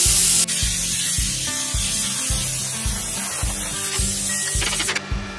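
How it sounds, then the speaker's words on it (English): A cheap Amazon plasma cutter pushes air through its torch during an air check, giving a loud, steady rushing hiss with a regular low thumping underneath that cuts off near the end. "I just hit the air check button just to blow some air through here"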